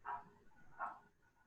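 A dog barks twice, faint and distant, about a second apart, against a quiet background with no speech.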